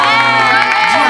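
A crowd of fans cheers and shouts in a short, loud, continuous burst of excited voices.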